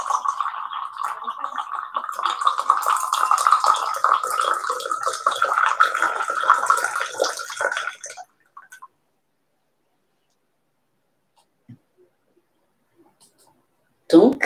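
Hot water pours from a teapot over pu'er tea into a small cup, a steady trickling splash lasting several seconds, followed by near silence and a brief clink at the end.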